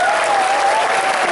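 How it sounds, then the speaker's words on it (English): Brief burst of audience applause during the opening ceremony of a fan convention, dense and loud for just over a second, with a faint tonal line running underneath. "So once again, another round for our applause for our pillars of the community."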